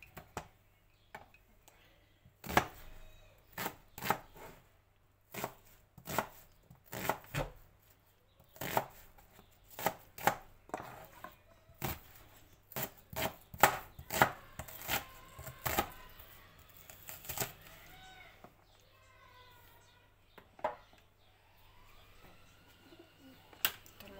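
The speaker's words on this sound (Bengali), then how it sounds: "পেঁয়াজ, তারপর রসুন সবগুলো কেটে নেব" Onion and garlic chopped on a board for a home cooking session, knife strikes landing in quick irregular bursts, crisp and close, with quieter shuffling between cuts and a soft background hum.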